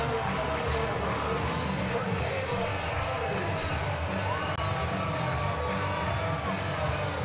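A college baseball crowd at a Razorbacks game cheers and whoops after a home run, a dense, steady roar from many distant voices sustained throughout.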